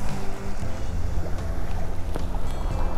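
A family cruising sailboat travels along the Atlantic coast near Île d'Yeu, with steady wash of water against the hull and wind buffeting the microphone. The motion noise is continuous, with a low rumble underneath, and no speech.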